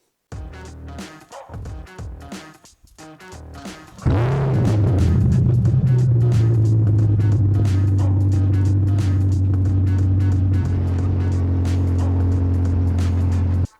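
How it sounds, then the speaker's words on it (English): A Corvette C8 starts up after a few seconds of quieter handling noise, then settles into a loud, steady, deep idle close by as it backs into a garage. "back it into the garage"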